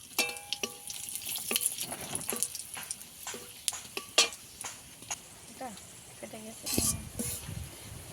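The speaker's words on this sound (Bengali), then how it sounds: "ফোড়নে দেবো গরম মশলার গোলমরিচ একটা শুকনো লঙ্কা একটা তেজপাতা" Whole garam masala, black pepper, a dried red chili and a bay leaf crackle in hot oil for tempering a Bengali yogurt fish curry, with light, close pops and sizzling mixed with sharp utensil clinks and pan scrapes.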